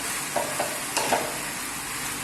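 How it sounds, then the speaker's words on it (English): Onions being stirred into chicken breast and chicken livers frying in a pan, a steady close sizzle with a few brief scraping stirs, no voices. "This is a good time to bring back the onions and to mix them with our"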